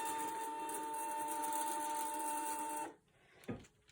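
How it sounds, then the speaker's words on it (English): A printer runs steadily, printing copies of a glass etching stencil with a constant mechanical whir and high hum, then stops abruptly near the end, followed by a couple of faint clicks and handling noises. "And as you can see, it's printing out."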